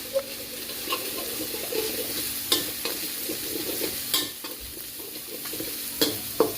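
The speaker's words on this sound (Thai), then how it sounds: "เราก็คั่วให้สุกนะครับ เนี่ยพอกระเทียบเริ่มสุกแล้ว" Garlic and pork stir-frying in a pan for a dry Thai basil pork dish: a constant sizzle broken by irregular sharp scrapes and clacks of the spatula against the pan, close and with no voices.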